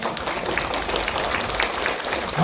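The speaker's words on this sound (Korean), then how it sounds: "이건 우리 어머님 아버님을 위해서 치시는 박수예요." Lecture audience applauding after a scientific talk, a continuous, evenly dense wash of clapping from many hands that holds steady throughout with no speech over it.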